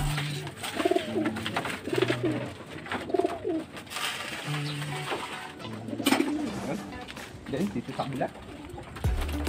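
Racing pigeons fed breeder mix feed, cooing repeatedly in soft, rhythmic bursts close by, with someone speaking intermittently over them.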